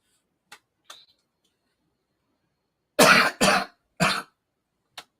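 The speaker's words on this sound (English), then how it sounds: "y'all hear that when I cough?" A man coughs a few times: two faint short clicks early, then two loud close coughs in quick succession, another single cough and a faint final tick, with silence between.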